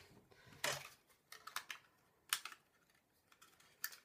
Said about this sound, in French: je sors mes pinces